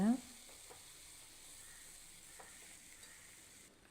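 Meal maker 65, fried soya chunks, being stirred in a frying pan gives a faint, continuous sizzle with a sharp scrape at the start and a few soft clicks, heard close and with no talk.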